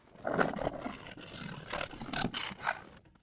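Rough, rasping scrapes of sanding on a hard plastic surface, several strokes in a row, close by with no voices.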